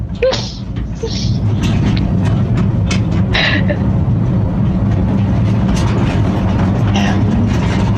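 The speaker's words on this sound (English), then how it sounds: "This seems to be you sort of riding through on this little train, right?" Field recording from aboard a small train rolling through a deep underground tunnel beneath a large hill: a steady low rumble of wheels and carriage, with scattered brief squeaks and clatters over it, and no talk.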